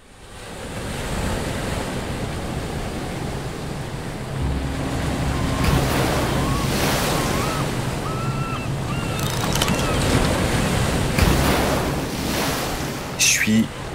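Sea waves and wind wash steadily around a Mini 650 solo racing sailboat off Brittany, a continuous loud surf with hull rush, gusty microphone wind and a few faint creaks, with a voice speaking partway through.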